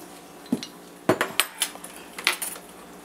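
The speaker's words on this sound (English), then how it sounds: "we're going to go ahead and add 2 teaspoons of vanilla extract, and we're just going to stir that in" A spoon stirs vanilla extract into cake batter in a bowl, giving a handful of close, scattered clinks and scrapes against the bowl, irregular and fairly quiet, with no voices.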